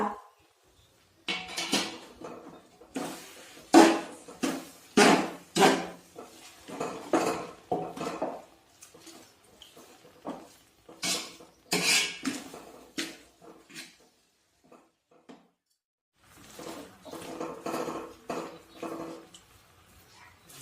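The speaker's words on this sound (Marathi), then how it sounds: "आता हा साबुदाणा आपण पाण्यामध्ये छान मिक्स करूया।" Sago pearls being stirred into water in a metal pot, the spoon clanking and scraping against the sides in irregular bursts of close, sharp clinks with short pauses between, no voices.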